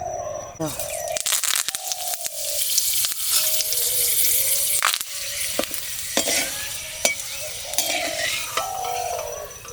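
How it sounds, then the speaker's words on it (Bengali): Curry leaves frying in hot oil for dal chanachur, loud crackling and spattering with sharp pops and bursts throughout, plus clattering utensil sounds and a brief voice. "কারি পাতা ভাজার সময় কিন্তু খুব তেল ছিটকায়"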